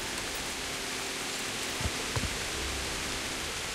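Steady rain falls in the medieval world of Kingdom Come: Deliverance, a soft, even hiss that stays quiet throughout, with a couple of faint low thumps near the middle.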